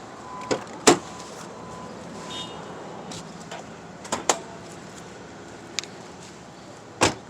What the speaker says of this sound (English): I got to unlock the door from the passenger side because the lock on the driver's side is just jammed up.